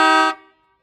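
An old Buick car horn gives one loud, short honk that cuts off after about a third of a second and leaves a brief fading ring.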